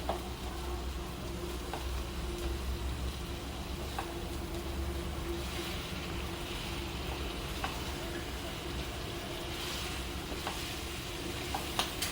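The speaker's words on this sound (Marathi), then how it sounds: "मस्त असं रोस्ट करून घेऊया हे." Paneer tikka roasting in a spoonful of oil in a pan for dhaba-style paneer tikka masala, giving a steady close sizzle with light stirring clicks throughout, alone.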